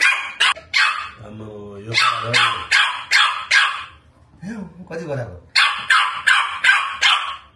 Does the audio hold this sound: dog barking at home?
yes